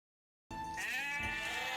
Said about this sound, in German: Oh, die Schäfchen, die sammelt er schon in, ne?